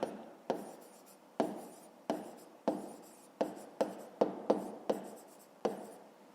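Close-up writing on paper or board during a fifth-grade math exercise: about a dozen crisp, scratchy strokes in irregular rhythm, each a short attack that fades quickly, with no talk.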